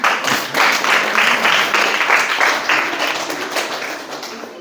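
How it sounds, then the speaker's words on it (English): Students clapping in a spoken English classroom activity, a group of hands clapping briskly and fairly close, the sound steady and then tapering slightly toward the end. "Claps."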